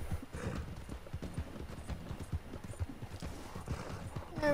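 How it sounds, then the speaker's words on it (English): Rapid clip-clop of horse hooves in a steady galloping rhythm, moderately close, with a faint rumble underneath, in the video game Red Dead Redemption 2. "Mind the horse."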